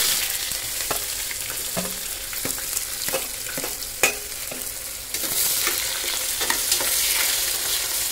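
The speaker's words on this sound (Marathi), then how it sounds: "चांगलं हे परतून घ्या." Onion and whole spices sautéing in hot oil inside a large pressure cooker for chicken dum biryani, with a steady sizzle broken by regular scraping stir strokes of a spoon against the metal. The frying grows louder toward the end.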